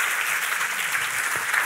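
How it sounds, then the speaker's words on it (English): A live podcast audience at a Dublin podcast festival breaks into steady, full applause, a dense wash of clapping heard from within the crowd. "I'm sure everybody can give him a massive round of applause"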